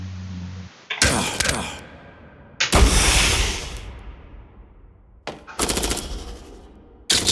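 Heavy automatic gunfire from the sci-fi shooter game Jupiter Hell roars in loud, sustained bursts with brief gaps between them, close and dominant, with no voice over it.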